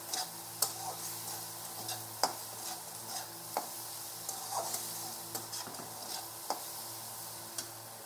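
Bamboo shoots and egg being stirred in a frying pan, with a soft continuous sizzle and repeated light scraping clicks of a spatula against the pan, close and fairly quiet, no talking.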